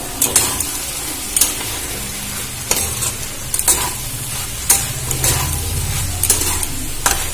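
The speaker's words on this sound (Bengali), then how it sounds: "এবার এটা খুব ভালো করে মিশিয়ে নেব" Vegetable fry with chopped coriander leaves being stirred in a pan, a close, steady sizzle with repeated scraping strokes of the spoon at an uneven rhythm, alone without talk.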